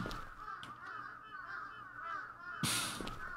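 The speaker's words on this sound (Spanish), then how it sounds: "Son cuervos." Crows caw repeatedly over a steady background hum in the horror video game Akai Onna, with several overlapping calls and a sudden bright burst of sound near the end.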